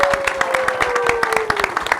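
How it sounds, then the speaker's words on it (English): Audience applause at a panel on veteran mental health and recovery, a steady wash of many hands clapping with sharp individual claps, moderately loud, while a voice speaks over it and a faint tone sweeps slowly downward. "a huge round of applause"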